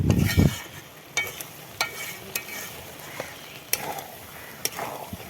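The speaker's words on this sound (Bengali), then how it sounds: "এভাবে কষা কষা রান্না করবে তাহলে কিন্তু বেশি ভালো লাগবে খেতে মাংসটা দিয়ে দেখো আমি কতটুকু তেলে রান্না করছি" Spicy meat cooks in a small amount of oil, with a soft low sizzle under sharp scraping and stirring strokes that come at irregular intervals, with no voices.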